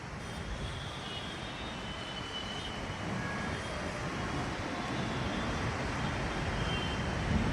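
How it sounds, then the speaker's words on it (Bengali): A metro train pulls onto a station platform with a broad, steady roar of wheels and machinery that swells slightly as it comes closer. "দেখতে থাকো, ট্রেনটা ঢুকছে।"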